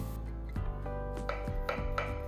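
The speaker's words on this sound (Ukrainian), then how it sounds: "Тепер нарізаю 2-3 середніх помідори кружальцями або кубиками" Knife slices through tomatoes on a board, a series of short crisp chops and slices at an uneven pace, close by over a faint kitchen hum.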